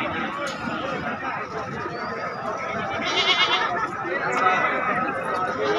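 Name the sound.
goats bleating at a goat market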